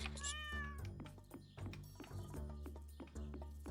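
A cat in Stardew Valley gives a single rising-and-falling meow at the start, then rhythmic game music with steady plucked beats carries on alone.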